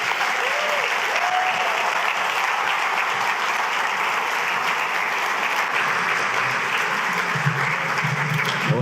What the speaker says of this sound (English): that round of applause meant that you were really dynamic